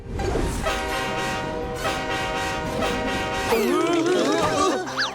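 An animated train's horn sounds in long, sustained blasts over rumbling wheels, with swooping, whistling cartoon effects toward the end.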